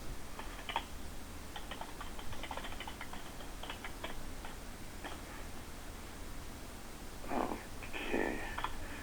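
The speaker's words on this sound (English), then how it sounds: "This is still him typing away in the background." A man types on a computer keyboard in the background of a phone call, faint scattered key clicks over a steady line hiss, with a couple of louder bursts near the end.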